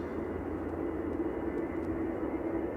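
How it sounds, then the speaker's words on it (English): An Airbus A320 Classic jet departs Manchester Airport, heard as a steady, broad engine roar with a heavy low rumble, holding even and fairly loud throughout with no voices. "A320 Classic departing."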